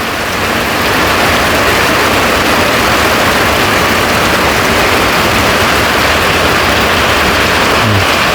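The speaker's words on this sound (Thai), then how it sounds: "เอาดูบรรยากาศฝนตกเถอะ" Heavy morning rain pours down steadily, a loud, dense hiss of drops striking surfaces close by, constant from start to end with no voices.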